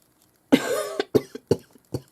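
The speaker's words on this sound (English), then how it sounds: "Sorry about the coughing." A run of coughs close by: one long hacking cough followed by three or four shorter, sharp coughs spaced about half a second apart.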